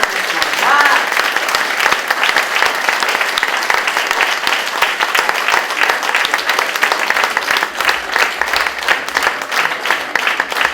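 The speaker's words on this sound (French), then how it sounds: "Encore un petit applaudissement pour le tableau final." A crowd of parents and friends at a sixties-themed dance gala applauds the final number with loud, steady clapping that lasts about eleven seconds, with faint voices mixed into the noise.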